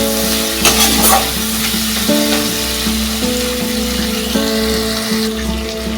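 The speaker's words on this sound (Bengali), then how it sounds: "টমেটোটা নরম করে ভাজবো" Tomatoes fry in oil for a spicy mustard curry with Lailentika fish, giving a steady close sizzle under background music with a few brief stirring scrapes.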